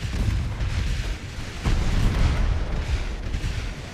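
Naval guns firing in the Ultimate Admiral Dreadnoughts naval battle game, including small 2-inch and 9-inch guns, give a dense run of overlapping booms and artillery blasts over a constant low rumble.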